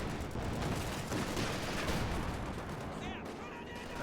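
Dense gunfire, machine-gun bursts and artillery blasts from a World War II tank strategy game match fill the whole stretch as a loud, continuous barrage, with a commentator's voice partly audible over the battle.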